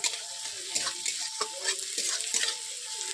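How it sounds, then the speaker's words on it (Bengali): Onions frying in a pan with a little salt for Bengali mustard fish curry, sizzling steadily while a spatula stirs and scrapes in several distinct strokes. "পেঁয়াজগুলোকে আমি লালচে করে ভেজে নিচ্ছি"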